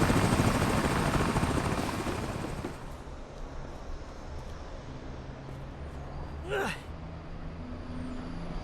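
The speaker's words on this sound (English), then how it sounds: "Wow, is that a helicopter after me?" A helicopter in the video game American Arcadia, loud whirring rotor noise up close at first that drops to a steady lower drone, with a brief rising whoosh partway through.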